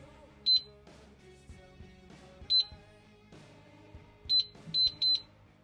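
A biometric safe's electronic beeps over a low background hum: one short beep, another, then a final quick double beep, each high and clear.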